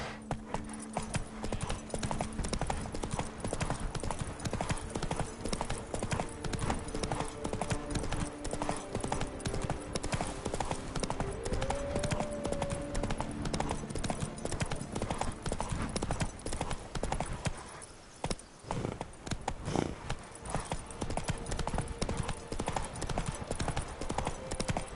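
A horse galloping in The Witcher 3 video game, with steady rapid hoofbeats running throughout over busy game ambience and music, loud and continuous, with a brief whinny partway through.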